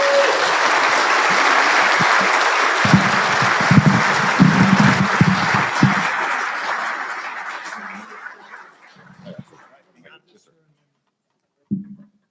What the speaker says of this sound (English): please direct your applause at our 4 recipients